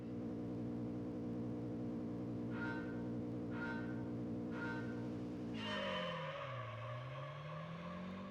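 Racing cup car engine in Gran Turismo 3, a steady loud drone with three short gear-shift blips, then a rising rev sweep that dips and climbs again, running continuously throughout.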